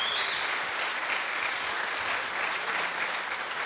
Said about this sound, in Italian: Gli facciamo un applauso a Fabrizio Ravanelli